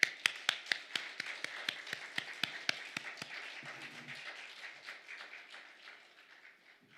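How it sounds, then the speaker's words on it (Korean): Scattered hand claps from a church evening-service congregation welcoming a missionary, starting as sharp distinct claps in a steady rhythm and thinning out to a faint patter over several seconds. "우리 임진영 선교사님 나오실 때 박수해 주시기 바랍니다"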